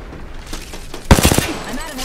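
Gunfire in the video game Apex Legends, with a few scattered shots followed by a loud, rapid automatic burst, then quieter trailing sounds.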